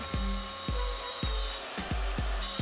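A router with a keyhole bit cuts a slot in a purple heart wood picture frame, giving a loud, steady high whine broken by a regular series of heavy knocking thumps as the bit chatters.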